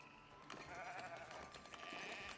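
Faint, overlapping bleats of sheep in the video game Foundation, with a synthetic, game-like quality, set against a low steady background.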